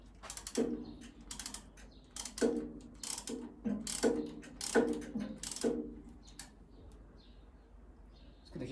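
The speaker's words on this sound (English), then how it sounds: "I'll get an extension on my 10mm and we'll" Ratchet with a 10mm socket on an extension tightening a stainless steel strap clamp on a motorcycle fan shroud, repeated quick clicking strokes in about eight bursts, close and fairly quiet.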